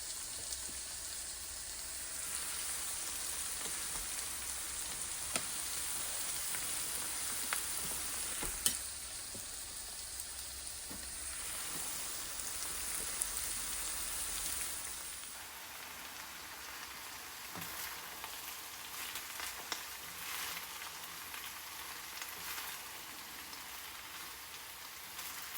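Rice frying with vegetables in a pan gives a steady, rain-like sizzle that continues for a long stretch and then eases, with occasional stirring clatter and no talk.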